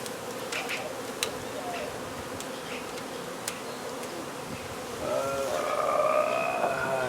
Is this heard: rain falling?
no